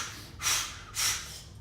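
Two deep, forceful breaths drawn close to the microphone during a shoulder flexion exercise, each a short rushing burst with a quiet pause between them.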